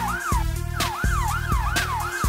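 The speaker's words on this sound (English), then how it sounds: "Police car." A cartoon police car siren wails in a fast repeating rise-and-fall pattern with a rhythmic low thumping beat underneath, loud and steady throughout the short stretch.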